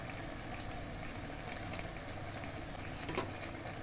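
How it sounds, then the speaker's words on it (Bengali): Tomatoes for a pickle, seasoned with salt and turmeric, cook down and are stirred in a pan, giving a faint, steady sizzle with a slight bubbling edge, heard alone without talking. "আবারও খুব ভালো করে নেড়ে নেব।"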